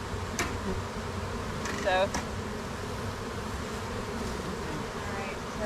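Honey bees swarm and buzz around a swarm trap, a steady close hum that fills the whole stretch while a person speaks briefly.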